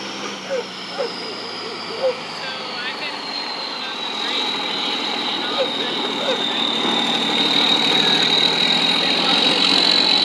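A tractor-trailer truck idles nearby with a steady rumble and a rising high whine, sustained and fairly loud, while people talk briefly over it.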